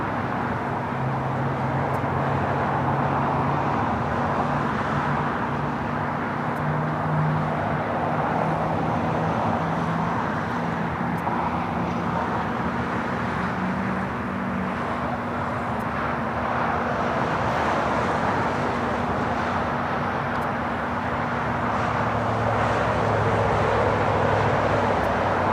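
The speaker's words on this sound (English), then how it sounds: "The 777 freighter now rolling down at 25 left." A Boeing 777 freighter rolls for takeoff on runway 25 left at Los Angeles International Airport, its jet engines giving a loud, sustained roar with a low rumble and steady droning tones that hold throughout.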